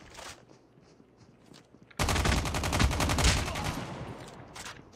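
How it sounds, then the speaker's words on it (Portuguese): A BK-57 rifle fires in Call of Duty: Mobile as one loud, rapid automatic burst lasting about three seconds, with quieter game sounds before it. "Pra minha sorte, BK-57 é uma arma tão forte quanto a M16."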